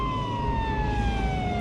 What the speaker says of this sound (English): Police cars were everywhere.